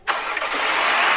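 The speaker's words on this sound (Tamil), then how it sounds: "Start engine." A car engine starts up in the Roblox game A Dusty Trip: a sudden crank that catches at once and becomes a loud, steady hum, close and alone.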